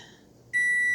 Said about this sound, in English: so there's my timer.